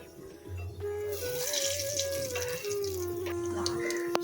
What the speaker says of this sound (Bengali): তো এতে জল দেবো।